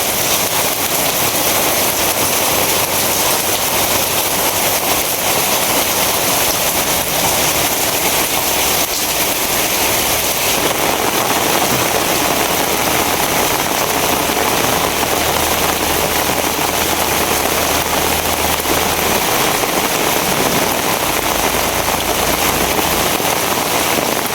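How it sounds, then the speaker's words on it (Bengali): Heavy rain pours down in a dense, unbroken roar that stays loud and even all the way through, with a faint low engine-like hum underneath and no voices. "ধুমসে বৃষ্টি নামছে।"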